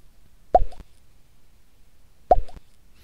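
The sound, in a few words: bubble pop sound effect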